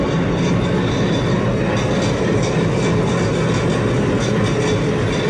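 The Rajshahi Commuter train, running from Dhaka to Rajshahi behind locomotive WDM 3A 5236, rumbles loudly and steadily with rhythmic clickety-clack of wheels on the rails, heard close and continuous.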